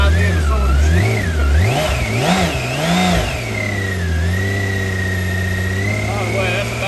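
Six-cylinder engine of a 2013 BMW K1600 GTL motorcycle rising and falling through several quick revs, then settling into a smooth, steady cruising drone as the bike moves, with someone speaking over it.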